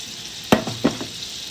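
Butter and olive oil sizzle steadily in a frying pan while an omelette breakfast is made, with a couple of soft stirring clicks from a utensil rising over the constant close-up hiss.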